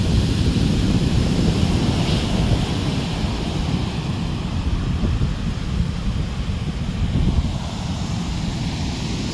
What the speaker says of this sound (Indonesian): Seperti ini suasananya pantai selatan siang hari ini